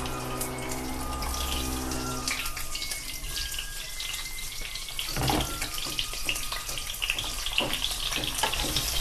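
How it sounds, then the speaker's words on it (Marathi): Bitter gourd tipped into a hot pan of cumin, a wet sizzle and hiss that rises after a steady hum, with clattering stirring knocks scattered through, close and continuous. "चला, जिरे पण कडलेलं आहे, तर आपण कारले टाकूया त्यामध्ये."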